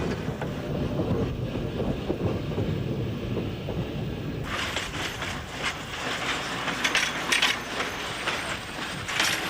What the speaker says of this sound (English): Old streetcars and trolleys that ride on rails